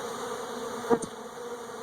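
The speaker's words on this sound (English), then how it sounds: "the bees are slowly but surely flowing out" A steady, close hum of many bees buzzing continuously as they flow out of a hive during a trap-out, with a brief slightly louder swell from one passing near.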